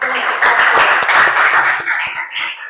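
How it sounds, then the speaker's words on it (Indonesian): A class applauds a group, with many hands clapping in a dense, fairly loud burst that tapers off toward the end. "mari kita sama-sama beri tepuk tangan buat kelompok"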